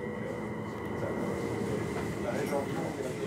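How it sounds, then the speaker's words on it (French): A Léman Express commuter train stands at a station platform in Geneva, its steady mechanical hum and rumble filling the scene, with faint squeals and clatter rising near the end. "le Léman Express, le voici sur le quai"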